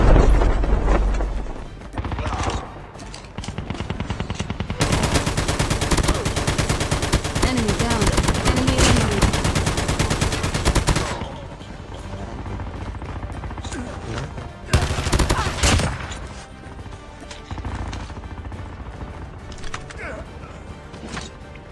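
Rapid automatic gunfire from an MX9 submachine gun in a video game, loud dense bursts lasting several seconds, then quieter game sounds and a second short burst, with no speech.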